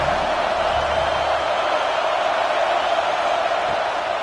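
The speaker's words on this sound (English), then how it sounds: "Decibels rising as the crowd gets behind this defense on 3rd down" Football stadium crowd roaring on a third down late in the first half of an FCS playoff quarterfinal, Harvard at Tarleton State: a loud, steady wall of cheering noise with no breaks.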